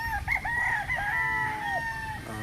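A two-year-old pure Spartan Black gamecock crows once close by, a long, loud call that wavers and trails off, with faint background noise.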